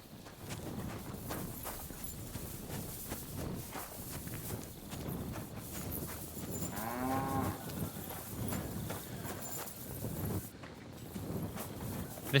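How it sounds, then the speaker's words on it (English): A cow moos once, fairly clearly, in the medieval video game Kingdom Come: Deliverance 2, over a busy ambient bed of hoof clip-clops and footsteps, with no speech. "These guys have mistaken a cow for a horse as well."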